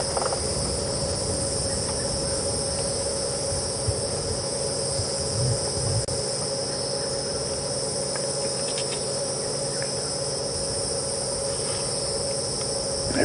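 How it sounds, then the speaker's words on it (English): Crickets and cicadas chirp in a dense, continuous high trill at night in a South African game reserve, steady and loud with faint scattered insect calls and a low rumble underneath, no voices. "You can hear some crickets, some cicadas."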